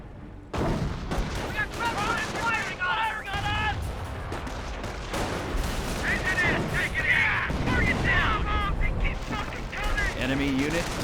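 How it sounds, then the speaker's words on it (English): Gunfire and landmine detonations from the Company of Heroes 1 real-time strategy game, with repeated sharp shots and booming blasts continuing steadily across the clip alongside whistling battle effects. "Some landmines being detonated there."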